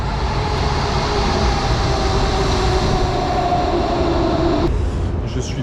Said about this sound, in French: Voici mon métro.